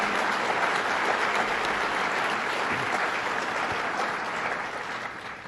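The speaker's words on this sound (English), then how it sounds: "Let's give a big round of applause to General Murphy and the National Guard." An audience at a government event launching a citizen preparedness training program breaks into sustained applause, dense even clapping from a large crowd that holds steady and then slightly fades toward the end.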